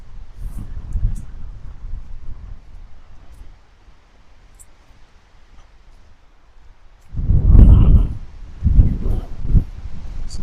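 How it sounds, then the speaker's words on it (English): Strong gusts on an exposed hike up to the Old Baseline fire lookout in Clearwater County, Alberta, roaring low and buffeting the microphone, with a quieter lull in the middle before heavy blasts return near the end. "The wind's not nice."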